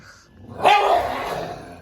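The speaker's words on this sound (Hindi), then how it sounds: "वो गुर्रा रही है, उसको पसंद नहीं है कि ये ऊपर आए।" A dog growls in a low, rough rumble at close range, rising suddenly and holding steady for about a second in a quiet room, with no talking over it.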